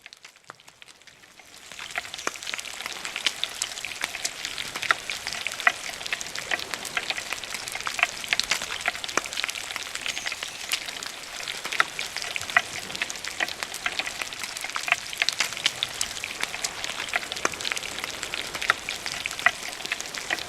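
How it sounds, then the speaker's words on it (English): Food frying in oil during cooking in the pirate game Sea of Thieves, a continuous wet crackling sizzle that starts after a brief quiet moment and stays steady and close, with scattered sharp pops and no talking. "Like you're frying in oil."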